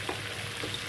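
Turmeric-seasoned fried chicken is briefly stirred in a sizzling pan, giving a soft steady frying hiss with faint scraping touches, quiet and close.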